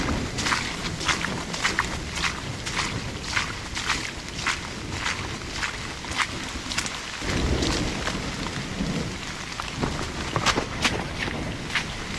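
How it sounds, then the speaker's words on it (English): Heavy rain pours steadily during a thunderstorm at a camp on a flooded mountain trail, with a low rumble of thunder swelling midway and sharp drips or steps ticking over the constant hiss. "It really has been raining a lot with this thunderstorm"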